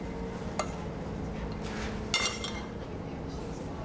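Pasta goes into a pan of boiling heavy cream sauce, giving a few soft clinks and clattering pan contact over a low, steady bubbling hiss.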